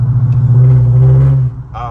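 A 5.7 Hemi V8 fitted with JBA long-tube headers idles loud and close, a deep steady exhaust drone that cuts off abruptly near the end, leaving a quieter background and a brief voice.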